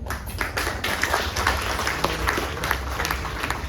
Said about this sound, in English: a round of applause goes to all our students who are present here